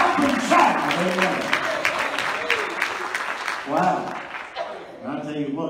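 Hands clapping across a church congregation during a midweek service, a sustained roar of applause and cheering that thins and fades toward the end, with voices calling out over it.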